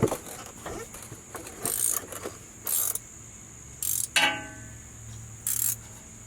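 A wrench works the motor mount bolts and nuts on a crate V8 engine in a garage: short bursts of ratcheting clicks and metallic mechanism noise repeat every second or so, fairly close, with no talking.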